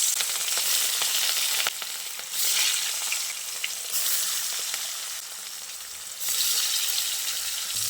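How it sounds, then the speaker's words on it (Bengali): Rui fish pieces marinated with salt, turmeric and chili sizzle loudly in hot mustard oil, a steady, close crackling hiss that swells and dips in waves with no voices over it. "যে মাছগুলো নুন, হলুদ, লঙ্কা দিয়ে ম্যারিনেট করে রেখে দিয়েছিলাম সেইগুলো এ তেলের মধ্যে দিয়ে দিচ্ছি"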